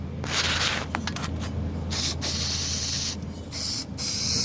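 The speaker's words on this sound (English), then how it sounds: "Multi-purpose adhesive spray." Aerosol can of multi-purpose adhesive spraying in several bursts, a loud close hiss with brief gaps between sprays.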